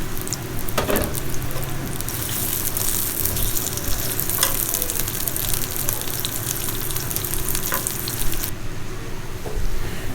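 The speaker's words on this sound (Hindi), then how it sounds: "प्याज को यहाँ गोल्डन फ्राई कर लेंगे।" Three medium onions, sliced, frying in hot oil for chicken biryani, a steady loud sizzle and crackle throughout with occasional stirring clinks, close up and with no voices.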